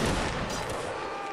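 A loud musket volley crashes out in a Napoleonic Wars video game line battle, a dense burst of massed gunfire that rolls and fades over about a second with no talking.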